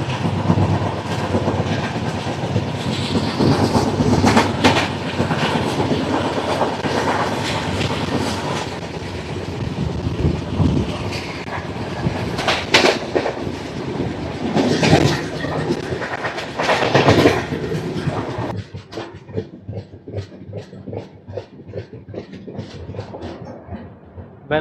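The Janmabhoomi Superfast Express, running with old Garib Rath coaches on the Visakhapatnam–Lingampalli route, roars past close and loud, its steady rumble giving way to a rapid, regular clickety-clack of wheels over rail joints.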